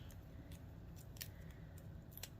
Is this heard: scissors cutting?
yes